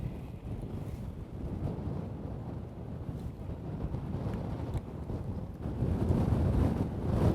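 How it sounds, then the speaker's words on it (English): Strong wind roars and buffets the microphone throughout at a fishing venue, with low rumbling gusts that build louder toward the end; there is no talking. "Oh, that is windy. Jeez. Whew. Nearly blew me in."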